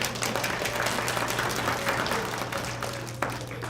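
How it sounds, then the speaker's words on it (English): A crowd at a family fun festival magic show applauds steadily, dense clapping at a consistent loudness before easing slightly at the end. "Give her a big round of applause."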